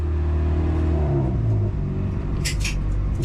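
Lynk & Co 03 pulling away on a racetrack, a loud close engine rumble climbing in pitch as it accelerates, with brief high squeaks near the end.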